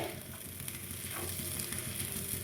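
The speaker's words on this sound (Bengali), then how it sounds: "এইভাবে সমানে নেড়ে যেতে হবে একদম ঝরঝরা করতে হবে এইভাবে নাড়তে নাড়তে সুজিটাও সেদ্ধ হয়ে যাবে" Semolina is stirred steadily in a hot pan for sweet mithi pulao, giving a continuous dry sizzle with soft scraping and stirring rustles up close.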